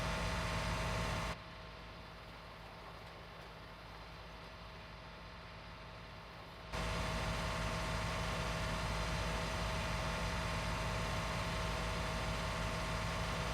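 Steady droning hum of a tractor engine in Farming Simulator 19, cutting out abruptly to a quieter idle for several seconds before the full engine tone snaps back and holds.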